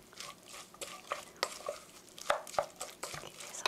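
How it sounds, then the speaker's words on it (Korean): Ground meat and beaten egg being stirred by hand in a bowl until sticky for meat toast, soft wet squelching and repeated light taps of a utensil, close and quiet, with no talking. "이렇게 섞어서 끈기가 생기게 잘 섞어주세요"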